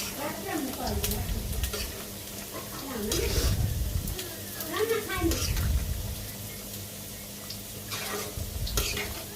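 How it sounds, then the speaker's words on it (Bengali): Potatoes fry in a pan for a Bengali fish-and-vegetable curry, with steady sizzling broken by the scrape and clatter of stirring against the metal, close and moderately loud throughout. "এরপর আলুগুলো ভাজতেছি"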